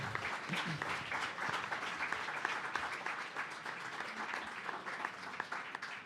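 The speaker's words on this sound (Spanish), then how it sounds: "me gustaría, sí, aparte de pedir un aplauso para los 4." An audience in a hall at a book presentation applauds in a full, continuous round of clapping that stays loud and even from start to finish, with no voices over it.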